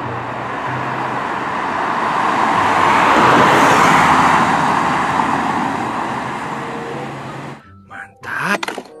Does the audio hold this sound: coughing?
no